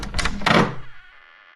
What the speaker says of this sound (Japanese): 小屋の入り口の重い扉が開き